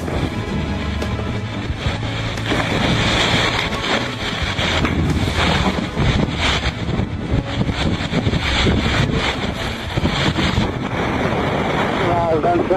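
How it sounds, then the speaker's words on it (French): Strong sea wind of about 25–26 knots roars over a sailboat crossing the North Atlantic in a small swell, with steady buffeting and rushing water near the microphone throughout, loud and continuous. "On a 25-26 nœuds de vent là, on a une petite mer"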